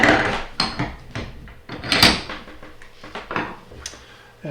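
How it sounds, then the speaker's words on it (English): Rope core strands are clamped into a metal bench vise, a run of close knocks, clanks and scraping handling noises at irregular intervals, fairly loud with short quiet gaps. "I will take this end here, these core strands that are sticking out, and just clamp those into my vise"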